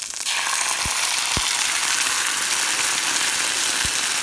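Onions frying in a pan for lamb curry, a steady close sizzle and crackle with a few soft thumps of stirring, no voices.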